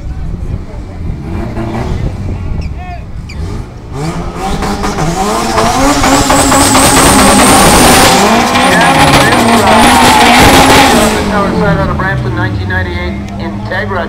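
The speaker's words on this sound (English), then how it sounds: "Taking on Gil Matty. Matty's out of Toronto. 2000 Honda Civic Pro Spec Import DPS sponsor" A 2000 Honda Civic Pro Spec Import car racing at a street drag race, loud engines revving and accelerating with tire squeal, swelling to a peak mid-run then easing, with an announcer talking throughout.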